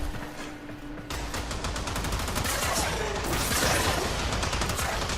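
Rapid automatic gunfire in the Warframe game, dense repeated shots rattling in a steady fast rhythm for several seconds, loud and close, growing busier midway, with no talking over it.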